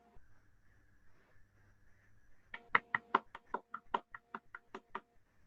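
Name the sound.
knocking imitating applause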